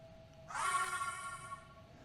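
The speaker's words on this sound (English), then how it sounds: "Oh, that's a siren." A siren in the modded Phoenix Point: Terror From the Void game cuts in abruptly and holds a bright, sustained wailing tone for over a second before easing off, heard alone.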